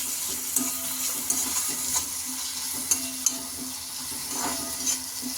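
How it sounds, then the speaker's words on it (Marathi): Onion and tomato sautéing in oil in a pan for Schezwan poha, a steady soft sizzle with several sharp stirring clicks and scrapes scattered throughout, close and moderately loud with no talking. "कांदा आणि टमॅटो व्यवस्थित तेलामध्ये परतायचा आहे"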